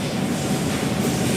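A train rumbles at Pasar Senen railway station in Jakarta, a loud, steady low roar of rolling wheels and carriages heard close by with no talking.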